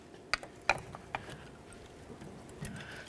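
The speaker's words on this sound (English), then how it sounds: "The next thing that we're going to do is push back our caliper pistons." Brake caliper pistons on a 1998-2011 Ford Ranger being pushed back during a front brake job, heard as a few sharp metallic clicks and clanks close by over a faint steady background hum.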